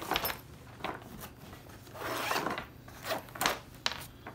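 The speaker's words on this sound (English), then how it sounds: "Zip it up." A zipper on a knife carrying case packed for competitions is drawn closed in several quick rasping strokes of uneven length, close and fairly loud, with a longer pull in the middle and no talking.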